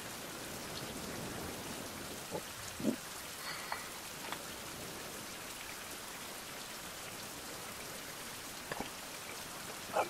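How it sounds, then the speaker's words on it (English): Steady rain in a survival video game, a dense, even hiss of falling drops with a few brief louder taps, continuous throughout with no talking. "Ugh, 4 hours of rain."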